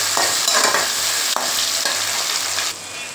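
Onion and tomato sautéing in hot oil for an eggplant and sardine fish curry, a steady loud sizzle broken by periodic spoon strokes through the pan, close up with no talking.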